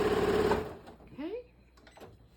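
A sewing machine runs a short burst stitching a narrow side seam on a monogrammed tote bag, a loud rapid mechanical whir that stops abruptly, followed by faint handling clicks.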